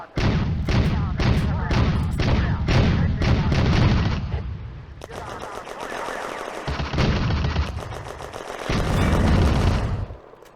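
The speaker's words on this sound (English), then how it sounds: "The heavy machine gun continues to fire." A heavy machine gun in a WWII video game fires repeated loud, rattling bursts. Short gaps separate the volleys, and a narrating voice comes in between them.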